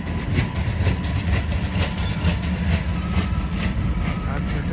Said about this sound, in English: That train is huffing and puffing its way.